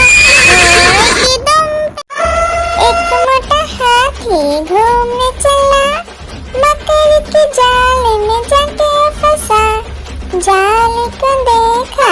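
A horse whinnies loudly in a rising, shaky call at the start of a Hindi children's song, then a bright sung melody carries on with music over a steady beat.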